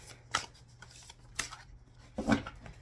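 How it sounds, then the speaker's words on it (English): A Sugar Skull tarot deck is shuffled by hand in three brief riffling bursts, close and crisp, with quiet pauses between them and no talking. "So we're gonna give this deck a nice good shuffle here."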